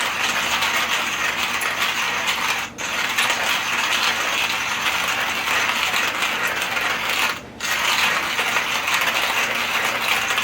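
A Porlex hand grinder crushes coffee beans in a steady, loud, close-up crunching churn with a ratcheting grind. The turning breaks off twice for a moment before carrying on.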